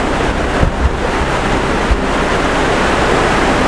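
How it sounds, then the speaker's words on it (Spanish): A river flowing along a mountain bike route, a loud, continuous rushing wash of water with wind buffeting the microphone and a few low thumps, with no talking. "El sonido del río pasar es relajante."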